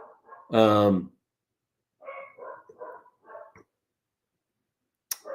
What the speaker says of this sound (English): I'm being interrupted by my dog barking downstairs